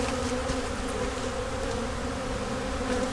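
Honeybees buzzing in a dense, steady drone around a hive during a bee rescue, a close, continuous hum with no talking.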